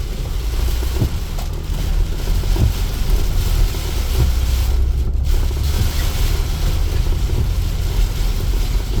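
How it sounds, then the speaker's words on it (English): Strong wind buffeting a MacGregor 26M sailboat ahead of a storm, a loud continuous roar with microphone gusts and water wash underneath, steady throughout with brief dips, no talking. "There's the wind."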